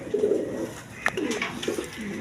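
Soft, low coos from a pair of pigeons kept with their young at a seller's coop, a few drawn-out calls at moderate distance over quiet ambient noise.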